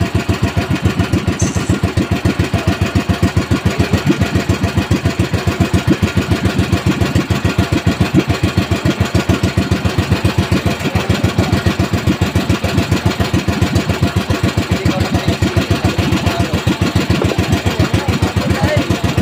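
A boat's engine chugs steadily and loudly close by, a rapid, unbroken rhythmic throb holding the same pace throughout.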